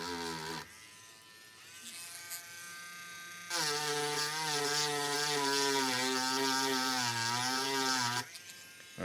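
A rotary tool cuts through a trace on a Sega Mega Drive circuit board, a high whining buzz that starts briefly, pauses, then grinds steadily for several seconds before cutting off.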